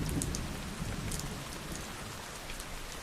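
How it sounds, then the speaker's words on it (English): Rain falls gently and steadily, a soft continuous patter with occasional nearer drops, even in level throughout and with no voices. "Listen to the sound of the rain gently falling in the background."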